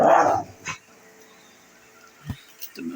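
A single sharp dog bark opens, followed by a few faint yips and whimpers in an otherwise quiet room.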